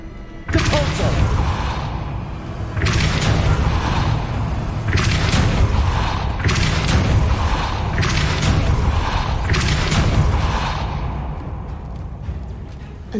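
Depulso spell cast repeatedly in Hogwarts Legacy, a series of booming whooshing blasts, about five strong bursts spaced a couple of seconds apart over a continuous rumbling game background.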